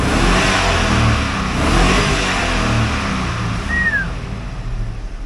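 Revving of a 2002 GMC Sierra C3 Quadrasteer pickup's 6-liter LQ4 V8, a loud close roar that swells and holds with rough mid-range growl, no talk.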